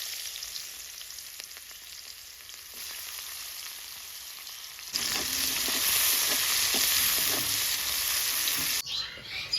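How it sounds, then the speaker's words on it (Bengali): Chopped onion sizzling steadily in leftover oil from frying puti fish, a continuous close frying hiss that grows louder and brighter about halfway through, with faint bird calls in the background. "মাছ ভাজার তেলে পেঁয়াজ কুচিটা দিয়ে দিব।"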